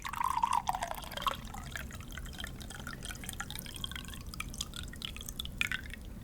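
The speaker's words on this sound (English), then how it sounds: "I am pouring over a towel on my lap." Water is poured over a towel on a lap, dripping steadily onto the soft surface, a light continuous trickle with scattered splashes, close by and without talk.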